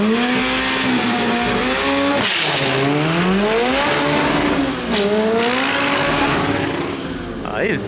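A fully built hatchback launches hard with constant wheelspin, its engine revving loud and rising in pitch through the gears while tires squeal continuously, close and dominant throughout.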